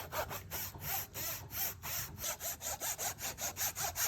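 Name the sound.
Japanese saw cutting a rubber block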